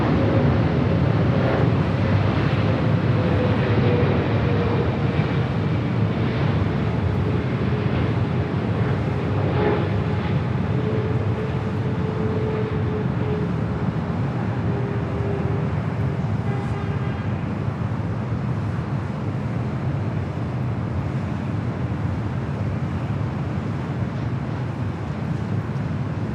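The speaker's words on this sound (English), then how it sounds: "Flight coming in from Hong Kong on the 777-300ER" A Cathay Pacific Boeing 777-300ER arrives from Hong Kong at LAX, a continuous loud jet roar with wind buffeting that stays broad and sustained, a descending engine whine audible through the middle.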